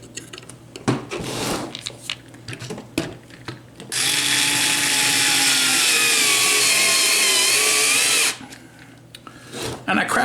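A power drill drives a screw into solid poplar wood while mounting a vector monitor kit part, one loud steady whirring burst of about four seconds, with handling noises and brief speech-like sounds before and after it.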